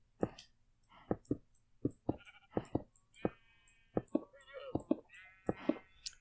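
Sheep bleating in the Minecraft video game, a rapid series of short nasal bleats repeating in irregular bursts, fairly close and clear against a quiet background.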